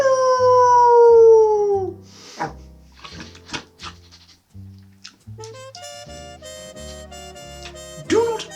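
A dog howls loudly and close by, one long rising and falling wail followed by shorter yelps and whines, with music-like tones playing in the background.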